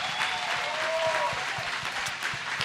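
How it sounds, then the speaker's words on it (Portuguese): Loud, steady applause from a church congregation fills the room without pause, dense and close, with a faint tonal hum underneath and no talk. "Você pode dar um aplauso bem forte?"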